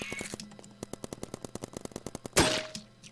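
Rapid paintball gun shots in a Roblox paintball game pop in a fast, regular string of sharp clicks, followed by a louder burst near the end, fairly faint overall with no talk.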